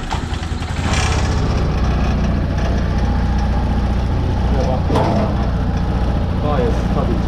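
Arora Max-T150 scooter engine starting up and settling into a steady, loud idle, a continuous low rumble heard close by with no talk over it.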